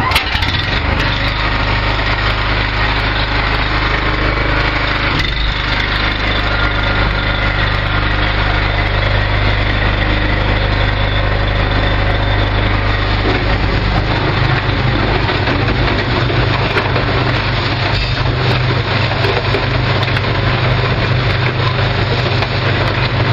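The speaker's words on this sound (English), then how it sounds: "start the generator so we can start the demonstration for you" A generator engine runs steadily and loudly throughout, a constant low drone with a busy mechanical rattle and no pauses.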